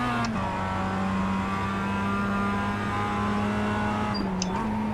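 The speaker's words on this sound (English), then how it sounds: "I think I'm going to try downshifting into 3rd since the car's a little bit tighter." A production race car in the iRacing sim drops a gear into 3rd, its engine note dipping then settling into a steady droning tone, with a brief blip and shift near the end.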